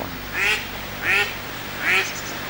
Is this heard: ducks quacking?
yes